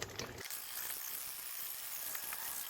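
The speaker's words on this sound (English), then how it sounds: "I'm gonna whisk it" A whisk works through vegan tofu custard curry in a bowl, giving a quiet, steady scraping and clicking that runs for a few seconds with no talking.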